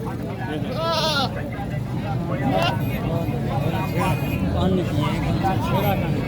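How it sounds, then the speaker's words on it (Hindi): Goats bleat at a crowded livestock market during haggling, short wavering calls rising over steady crowd noise and near conversation, with people talking throughout. "बकरा माशाल्लाह बहुत ही प्यारा है।"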